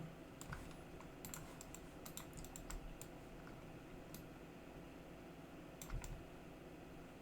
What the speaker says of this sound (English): hit 1 on the keyboard like that